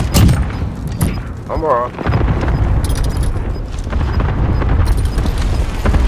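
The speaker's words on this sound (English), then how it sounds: "Allied cluster strike arriving" Cluster strike explosions rumble in Call of Duty Warzone, a continuous loud, heavy barrage of booms that follows a short spoken phrase.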